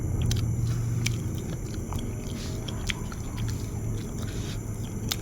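Crunchy bites into crispy fried tilapia eaten with cucumber papaya-style salad, close chewing and crackling over a steady background hum, with no voice.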